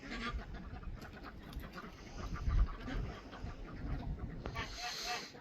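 Ducks and chickens on a small farm call out in rough honks and clucks, irregular and fairly close, mixed with a person's voice talking to the birds.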